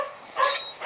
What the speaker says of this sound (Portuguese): Não liga pro cachorro latindo não